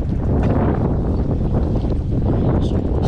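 Strong wind buffeting a microphone while riding a bicycle on a windy day, a steady loud low roar with gusty rumbling filling the whole stretch.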